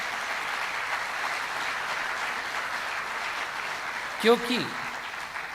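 An audience at a spiritual talk claps in a soft, even patter that continues for several seconds before a single voice briefly cuts in near the end.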